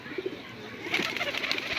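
Domestic pigeons coo in soft, throaty murmurs close by, the calls growing busier and fuller partway through with no talk over them.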